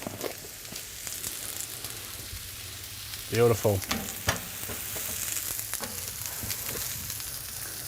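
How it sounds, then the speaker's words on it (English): Margherita pizza slices shallow-frying in a line of oil in a pan, crust down, giving a steady sizzle with a louder crackling burst partway through and a voice speaking briefly. "we're more or less kind of deep frying the crust on the bottom"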